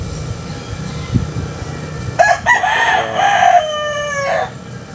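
A Sweater gamecock rooster crows nearby, one loud drawn-out cock-a-doodle-doo rising and holding before trailing off, over a low rumbling background with a faint cluck beforehand.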